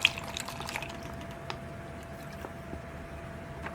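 Water splashes and trickles steadily into a bag being filled for rinsing, a soft continuous pour with a few faint drips and clicks, close by and fairly quiet, no talking.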